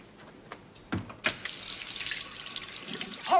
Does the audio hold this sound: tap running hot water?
yes